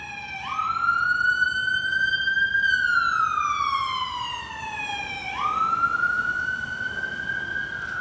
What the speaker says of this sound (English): Now we've had a lot of sirens going by.